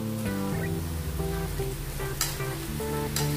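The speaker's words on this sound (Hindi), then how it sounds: "ये देखिए अभी हम साबूदाना डाल देंगे इसमें।" Potatoes frying in a pan with sabudana (tapioca pearls) being added, a constant crackling sizzle close by with a few brief stirring clinks, under a steady musical tone in the background.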